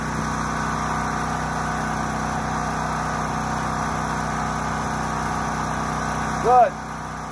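A soft wash roof cleaning pump engine runs at a steady, even drone throughout, close and continuous, with a brief rising chirp just before the end.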